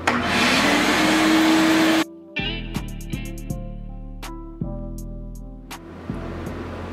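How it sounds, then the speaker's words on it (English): Vacuum cleaner running loud and steady while cleaning a car's interior carpet, then cutting off abruptly after two seconds, followed by scattered clicks and knocks. "I'll vacuum it again just in case."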